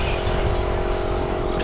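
A Schumacher Cat L1R 4WD radio-controlled car races at a club track: a continuous, loud, close electric motor whine with gritty tyre and surface noise, steady throughout with no speech.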